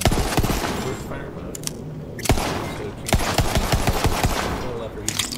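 Rapid gunfire from a fire-element Maliwan weapon in Borderlands 3, loud bursts of shots repeating in uneven clusters over game effects, with a voice talking throughout.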